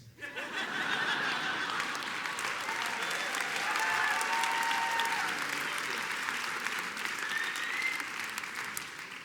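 A comedy festival gala audience in Sydney breaks into strong, sustained applause with some scattered laughter. It swells after a quick start and stays loud throughout.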